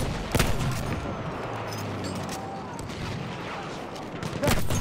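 Gunfire from Battlefield 1 crackles steadily through a dense battle din, with a couple of louder bursts near the start and end. A voice is briefly audible under the shooting.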